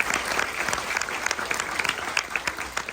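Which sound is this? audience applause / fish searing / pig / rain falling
audience applause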